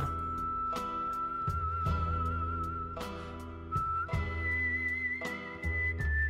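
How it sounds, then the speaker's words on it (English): A high warbling whistle melody from Final Fantasy 6 Pixel Remaster trills and wavers above a pulsing accompaniment of repeated bass notes and struck chords, sustained through the whole passage at steady volume. "They got the whistle doing the warbles"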